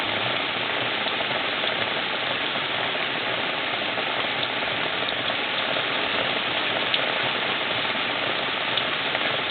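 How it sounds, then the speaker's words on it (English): Heavy rain pours down steadily in California, a dense, even hiss of drops on hard surfaces that holds without a break for nearly ten seconds, close and loud, with no voices. "Rain always ruins all my stuff."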